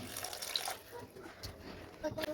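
Water is poured into a pot of simmering chicken curry to make gravy, a close, gurgling splash and trickle heard briefly under a speaking voice.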